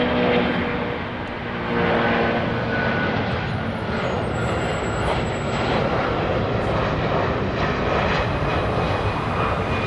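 An E330 airliner jet passes at LAX, its engine roar loud, broad and steady for the whole stretch with no voices over it.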